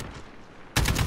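A minigun in Call of Duty: Modern Warfare survival mode lets loose a dense, roaring burst of rapid fire that starts abruptly after a quiet moment and stays loud to the end.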